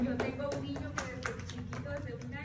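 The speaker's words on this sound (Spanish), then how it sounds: "pues un aplauso a esa mamá" Audience applause for a mother, heard as a steady patter of close, moderately loud hand claps running throughout under a hum of room noise.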